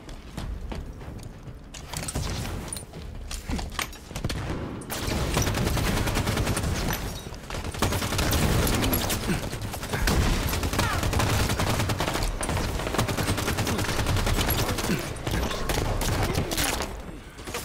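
Gunfire from beam rifles and other weapons fills a Halo 5 multiplayer match in a dense, continuous barrage of rapid shots and mechanical clatter that dominates from start to finish.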